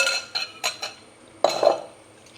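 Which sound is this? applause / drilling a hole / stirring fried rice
stirring fried rice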